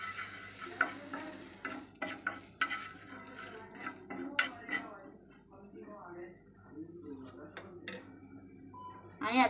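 Pav bhaji masala with butter, garam masala and chili powder stirred in a pan, a soft steady sizzle under repeated scraping and clinking of a spoon against metal, with a voice talking nearby.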